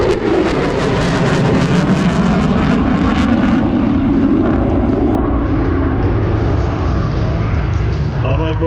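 An F-35C fighter jet roars loudly and continuously during an air show display at Sun n Fun 2025. Its engine sound slowly shifts as it passes, with a commentator's voice heard over it.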